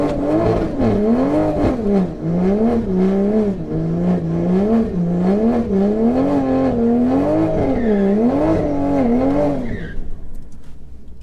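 A Stage 3 760hp Toyota Supra on a drag strip gives a loud, close engine drone that rises and falls in repeated revving waves for about ten seconds and then cuts off abruptly, with no voices.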